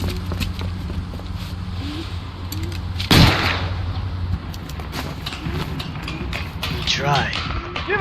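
A single loud gunshot fired at a fleeing suspect in the crime game LA Noire, one sharp report midway through, amid street ambience, horse hooves and someone speaking.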